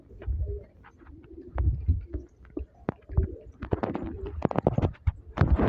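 Pigeons in a loft give soft, low throaty coos and rumbling calls close by, interspersed with brief wing flutters and scratchy shuffling sounds, with activity growing busier toward the end.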